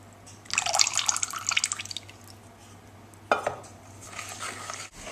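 Maple syrup from Canada pours into a bowl of vegan fudge brownie batter. Soft, quiet liquid trickling comes in two bursts with faint bowl clinks, close up and with no talk.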